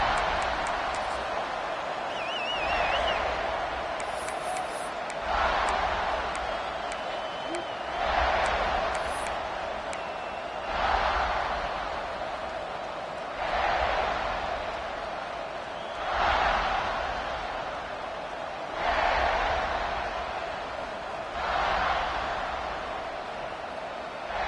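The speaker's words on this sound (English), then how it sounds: "This crowd trying to show them what it's going to be like all day in this house." A stadium crowd at a South Carolina v. Alabama college football game swells in repeated waves of distant cheering, rising and falling every few seconds under a play-by-play commentator's voice.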